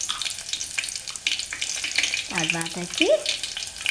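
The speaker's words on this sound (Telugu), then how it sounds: "తర్వాతకి జీలకర్ర, ఆవాలు వేసాను." Cumin and mustard seeds crackle and sizzle in hot oil, a steady close frying hiss throughout with a brief burst of speech near the end.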